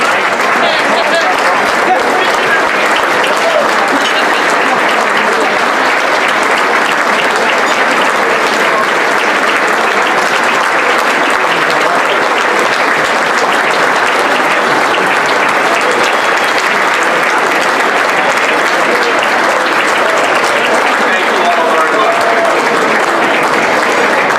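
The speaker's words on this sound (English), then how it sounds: "we are going to give him a huge round of applause" A standing ovation for Senator George Mitchell at a St. Patrick's foundation dinner, long, loud, unbroken applause from a large crowd, an even roar of clapping sustained for over twenty seconds with crowd noise mixed in.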